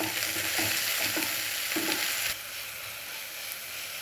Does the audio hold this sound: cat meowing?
no